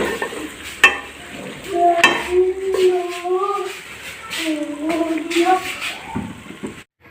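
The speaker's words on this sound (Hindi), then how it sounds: "अब बर्तन साफ़ करती हूँ" Dishes, pots and utensils get washed in a home kitchen, with running water, scrubbing and light clatter of metal and crockery close by. A voice talks or hums over the washing through most of it.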